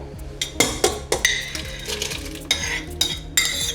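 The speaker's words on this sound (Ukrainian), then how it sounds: "Перемішую." A spoon stirs Ukrainian fish soup with vegetables in a cooking pot, producing close, irregular clinks and scrapes against the metal that come in uneven bursts over a low simmering background.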